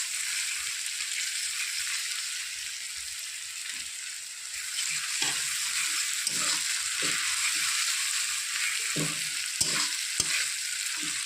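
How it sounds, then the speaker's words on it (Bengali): Ginger-garlic paste sizzles steadily in a pan with fried onions for chicken kosha, with repeated scraping stirs that grow more frequent toward the end, close and clear with no talking. "এবার দিয়ে দেবো আমি আদা রসুন বাটা"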